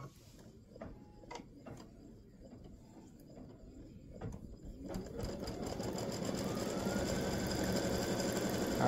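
A sewing machine stitches freestanding lace earrings with red thread and a red bobbin, starting with sparse clicks and taps before settling into a steady, loud, continuous mechanical whir that builds and holds to the end.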